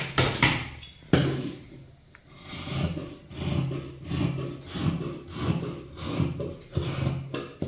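Scissors snip through blouse fabric at a sewing table, a run of rasping, rhythmic cuts repeating about once a second, close and fairly loud with no talking.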